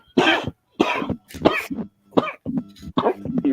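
A man coughs in a rapid series of harsh, close-up bursts, roughly six or seven fits separated by brief pauses, loud and dry with no talking over them.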